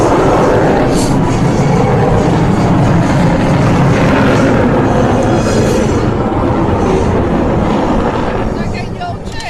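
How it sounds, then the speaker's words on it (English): An Avro Vulcan jet bomber's engines roar as the throttles open at an air show, a loud continuous broadband rumble and howl filling the whole stretch, with wind buffeting and a commentator speaking. "Opening up the throttles to power up."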